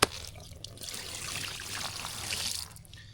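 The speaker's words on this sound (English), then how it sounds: "We're gonna get some water on him." Water is poured over a freshly caught carp on a big river, a continuous splashing trickle close by that ends abruptly.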